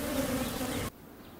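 Bees buzz thickly around a damaged colony, a close, steady drone that cuts off abruptly after about a second, leaving faint background hush.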